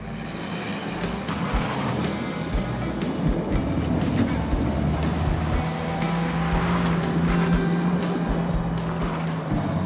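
Pinto car with a 2.3-liter engine in a video game: a continuous loud engine drone with rising and falling pitch, dense rushing noise throughout.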